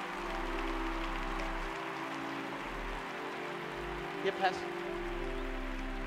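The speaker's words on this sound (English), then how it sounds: "Clap your hands, people." A large church crowd claps at an altar call, with a steady, dense patter of many hands like rain, sustained and moderately distant, under a preacher's voice and an organ.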